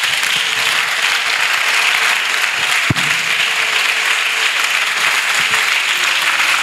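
A church congregation applauds steadily and loudly throughout, a dense continuous wash of clapping with no voices standing out.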